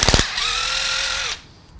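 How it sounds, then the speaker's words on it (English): Power drill slowly boring out a 5/32 bolt hole in a plastic three-blade foil drive hub: a few rattling clicks, then about a second of steady whining motor that stops abruptly, close and fairly loud. "if you were to put it in the side that the bolt goes in and just slowly drill out that hole"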